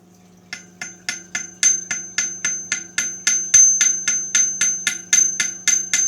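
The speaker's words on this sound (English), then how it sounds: "let me go ahead and hammer this down, and it should mold itself into place" Steady metal hammer strikes pound a part into place on a workbench build, about twenty evenly spaced ringing blows close to the mic over a constant low hum.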